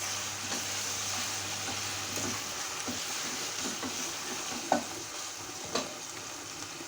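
Okra stew with meat simmering in a pot, a constant low sizzling bubble with a few faint clinks and stirs, close and steady without speech.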